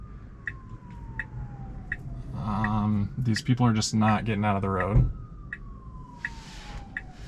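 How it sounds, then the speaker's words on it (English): A siren wails and sweeps through busy city traffic, heard from inside a car as someone talks over it, the tone gliding steadily in the background. "We got some sirens."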